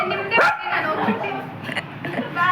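A pet dog gives a short bark or yelp near the start, close by, while people talk over and around it at a birthday gathering at home.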